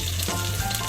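Onion and green chilies fry in a pan while mutton curry is being cooked, giving a brief, steady close-up sizzle with a low hum underneath and no talk.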